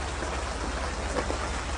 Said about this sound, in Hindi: जरा बारिश हो रही है